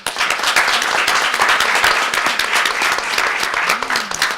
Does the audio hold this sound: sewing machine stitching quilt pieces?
no